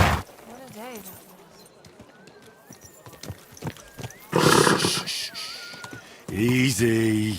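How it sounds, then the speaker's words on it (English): Horse neighing in the medieval video game Kingdom Come Deliverance II, a short whinny early on and a louder, fuller one at the end, with game sounds and a voice in between. "Easy, good horse."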